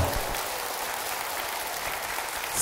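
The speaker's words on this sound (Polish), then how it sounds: "Brawa dla Państwa!" Concert audience applauding, a dense, even burst of clapping throughout that swells again at the end.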